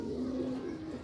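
Sialkoti pigeons cooing, a steady low, throaty coo held close and fairly loud for about a second.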